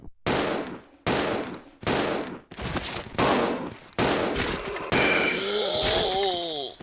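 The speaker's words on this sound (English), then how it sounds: "let's have Billy test his handgun on a zombie" Billy's handgun in Resident Evil Zero fires six loud, close gunshots at a standard zombie, each sharp crack spaced about a second apart and trailing into a brief decay, followed by a rising electronic whine and ringing tones.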